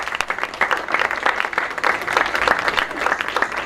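A crowd applauding steadily at an awards ceremony, dense clapping filling the room at close range, loud and sustained throughout.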